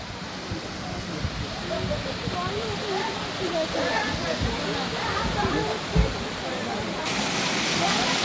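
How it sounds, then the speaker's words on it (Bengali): Water from the Rock Garden waterfall rushes in a broad, continuous roar. It sounds close and steady, with voices talking over it. "এটা রক গার্ডেন ঝর্ণা"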